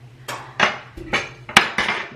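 Bread dough is put into metal baking pans, giving a series of five or six close, sharp clanks and taps of pans and utensils at an uneven rhythm.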